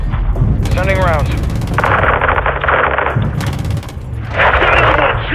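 Gunfire in the video game Call of Duty: Modern Warfare II, loud bursts of automatic fire in repeated stretches over constant game rumble, with radio-style voices and effects mixed in.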